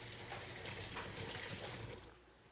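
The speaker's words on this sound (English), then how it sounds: "Let me rinse off my hands real quick" Tap water runs in a sink as hands are rinsed, a steady soft gushing splash that fades off near the end, quiet and without talking.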